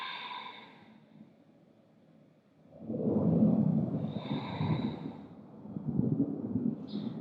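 A person doing yoga breathing lets out a long, soft, airy exhale lasting a few seconds, close and gentle, with quieter breath noise before and after.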